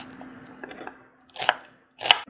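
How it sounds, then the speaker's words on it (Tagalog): A knife chopping onion and garlic into small pieces for a Filipino hardinera dish, heard as two or three sharp, close chops spaced apart, with no talk. "Kumuha na tayo ng sibuyas at bawang. Gayatin na natin ito ng maliliit"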